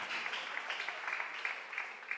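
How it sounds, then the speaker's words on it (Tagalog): A church congregation claps together in a steady, moderately loud ripple of applause that stays even from start to end, with no talking over it. "Malakas na palakpak para sa ating mahal na Panginoon."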